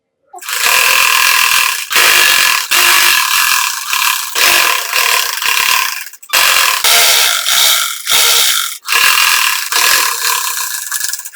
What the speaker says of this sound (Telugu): మెయిన్ క్లాత్ పైన లైనింగ్ క్లాత్ పెట్టుకొని చుట్టూ ఒక స్టిచ్ చేస్తున్నానండి